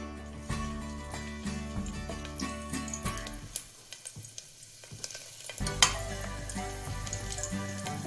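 Garlic frying in hot oil, with a steady close sizzle and crackle plus stirring scrapes throughout, no voices.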